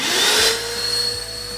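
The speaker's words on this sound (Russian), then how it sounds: "Строительный пылесос." A PS 30S construction vacuum cleaner running, a steady airy roar with a thin high whine, louder in the first half-second and then settling to an even drone.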